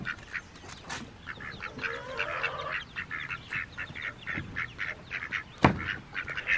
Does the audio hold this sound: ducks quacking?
yes